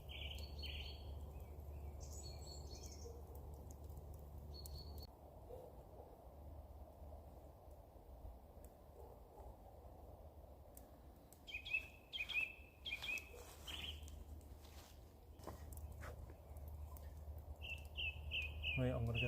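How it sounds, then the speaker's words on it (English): Birds sing in a woodland camp: faint, scattered high chirps and short trills come and go over a steady low outdoor rumble, with no nearby voices. "Listen to the birds."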